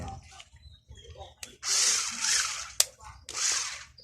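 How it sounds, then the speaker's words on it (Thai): An electric drill driving nuts on a solar fan motor speed module whirs in two short bursts close by, with a sharp click between them and a voice speaking briefly before. "ผมใช้ สว่านนี้"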